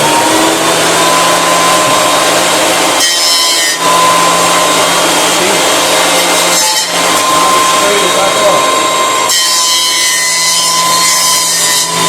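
An electric wood jointer runs loudly and steadily with a constant motor whine, broken by brief dips as the cutter load shifts.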